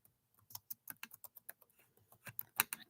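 Fingers type on a computer keyboard in quick, irregular bursts of close, crisp clicks with short pauses in between, fairly quiet and with no voices.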